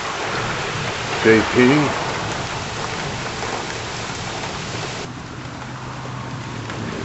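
Steady rain falls through a summer thunderstorm with cloud-to-ground lightning, a broad continuous hiss under a brief spoken voice, with low rumbling in the background.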